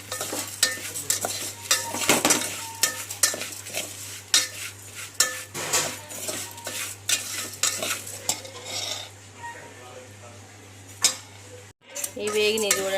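Vermicelli (semiya) frying and being stirred in a pan for payasam, with repeated scraping and clinking of a spoon against the pan over a low sizzle, close and busy throughout.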